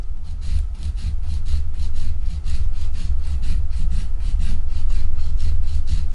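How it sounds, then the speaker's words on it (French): A nail file rasps back and forth across the curve of gel nail tips, close and loud, in quick steady strokes with a brief pause partway through. "Et je lime donc mon bombé en dernier pour harmoniser le tout."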